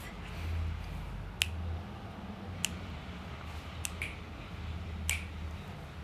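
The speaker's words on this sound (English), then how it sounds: "I'm gonna try and do it like with snapping my fingers just to get a beat." Finger snaps keeping a slow beat, sharp isolated clicks spaced about a second or more apart over a quiet low hum in a room.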